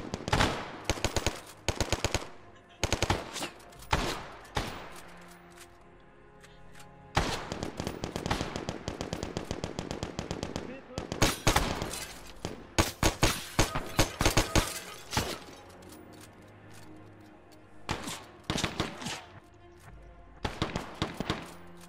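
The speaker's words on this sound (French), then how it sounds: "Ouvrez le feu. Maintenant." Dense bursts of automatic gunfire and rapid shots crackle through a Pegasus Bridge operation in a multiplayer war game, clusters of loud volleys separated by brief lulls with no talk.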